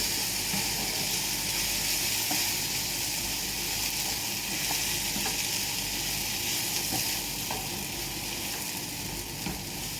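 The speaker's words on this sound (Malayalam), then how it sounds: "അതിലേക്ക് നമ്മൾ ഈ അരമുറി തേങ്ങ അതിലേക്ക് വേണം നന്നായിട്ട് ഇളക്കി കൊടുക്കാം" Chopped tomatoes and grated coconut fry in a pan for tomato chutney, producing a loud, constant close sizzle with faint scraping knocks of stirring mixed in throughout and no voice.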